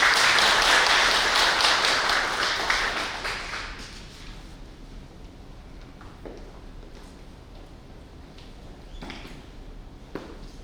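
A lecture audience at a May 2021 Sejong Forum gives a loud burst of applause as the speaker is welcomed, fading after about four seconds into a quiet room with a few scattered claps and small knocks.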